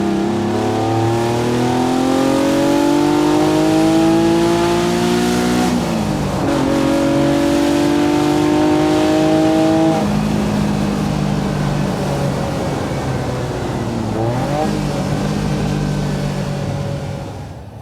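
A Fiat Dino Spider with its Ferrari engine accelerates hard on an open road, loud and close, its revs climbing through several gears with brief dips at each shift.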